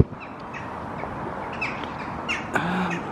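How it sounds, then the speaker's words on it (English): Outdoors under a cloudy winter sky near a pub, crows caw and other birds call in scattered bursts. The calls come from a moderate distance over quiet background ambience, and a sharper cluster of squawks near the end stands out. "Lots of birds"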